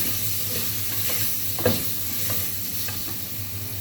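Desi chicken with turmeric and salt is stirred in a hot pot, a steady close sizzle of frying running throughout with a few soft scrapes and clinks of the spoon against the pot.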